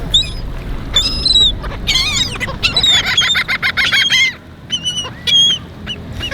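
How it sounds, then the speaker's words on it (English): Birds on a beach in Cancun being fed chips, a loud cluster of harsh, honking and squawking calls in rapid bursts, close by, with brief pauses between. "The birds also like chips here."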